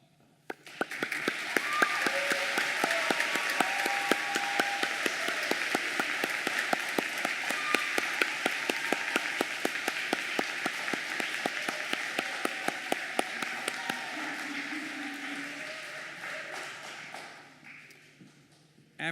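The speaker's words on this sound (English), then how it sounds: "You can applaud." Steady applause from an audience at a St. Monica Parish School 8th grade graduation ceremony in 2017, dense sustained clapping that fills most of the stretch before fading out near the end.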